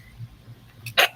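A single sharp sneeze bursts out near the end, brief and fairly loud, during a conversational spiritual talk show with a quiet, low background before it.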